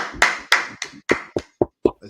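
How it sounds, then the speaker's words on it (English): Hand clapping during a religious group's online gathering, a sequence of about eight distinct, close claps in a rough rhythm, each loud and sharp with brief gaps between them. "clap it up, clap it up, clap it up, clap it up."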